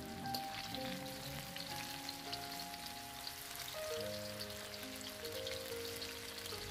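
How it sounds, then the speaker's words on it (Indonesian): Battered mushrooms fry in heated cooking oil, giving a steady, close hiss and crackle of bubbling oil with no talk. "tinggal kita goreng dengan minyak yang sudah"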